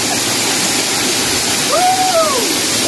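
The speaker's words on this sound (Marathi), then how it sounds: "वॉटरफॉल आहे" Bhagirath waterfall at Vangani pours in a steady, loud, broadband roar that fills the whole clip, with a brief whistling tone rising and fading near the end.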